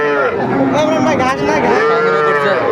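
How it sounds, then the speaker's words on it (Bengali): A young heifer calf mooing at a cattle market in Dinajpur, one long, loud, close bellow that rises and falls and fills the whole moment. "দেখছিলাম এখানে ছোট্ট বকনা বাচ্চা"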